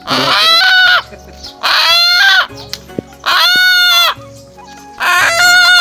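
Chicken clucking and squawking loudly nearby in a hilly rural setting, four bursts of harsh, agitated calls separated by short pauses, with faint background noise between them.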